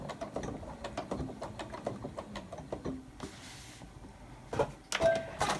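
A sewing machine runs a short lock-off stitch on a laptop bag handle, a quick, even patter of needle strokes that stops and gives way to a few small clicks and a snip-like rustle.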